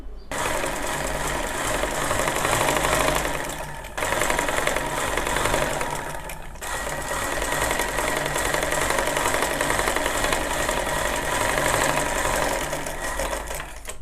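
A sewing machine stitches across a double-folded elbow-sleeve seam in long, steady close-up runs of rapid mechanical chatter, briefly stopping twice.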